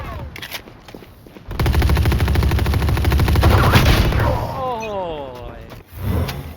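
Rapid automatic gunfire in the shooter Valorant, a close, loud sustained burst lasting a few seconds after quieter clicks and movement, with faint game effects around it.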